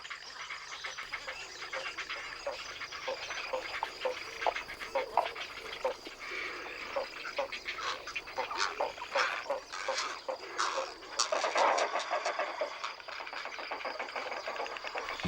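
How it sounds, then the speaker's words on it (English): Noisy nesting colony of spoonbills, herons and egrets in the Doñana wetlands gives a dense chorus of clattering, croaking calls at mid distance, rising and falling continuously throughout. "In this noisy birthing colony, some 400 spoonbill couples, 100 heron couples, 800 egret couples"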